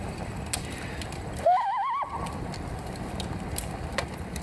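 Loon call: a single wavering, yodel-like wail lasting about half a second, rising then undulating, heard over a constant background hiss and scattered faint clicks.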